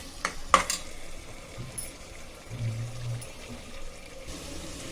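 Fried onion birista and tomatoes being fried in a pan for zafrani biryani: faint, quiet sizzling with occasional soft stirring scrapes and clinks, close and low-level, no talking.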